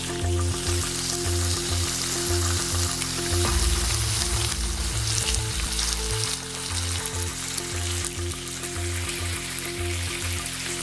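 Soto tangkar ingredients stir-fry in beef fat, giving a continuous loud sizzle with scraping and stirring, heaviest for a few seconds in the middle and then settling back to a steady fry.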